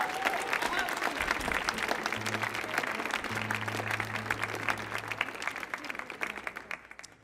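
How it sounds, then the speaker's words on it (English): Steady audience applause for Irish traditional musicians on the Millennium Stage, a dense continuous patter of many hands that gradually thins toward the end, with a low hum underneath. "Let's have another round of applause for them."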